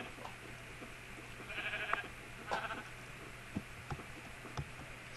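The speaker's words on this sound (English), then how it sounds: "Little cow and sheep." Sheep in Minecraft bleating twice in short wavering calls, moderately close, set over a continuous background hum with a few soft taps and clicks afterward.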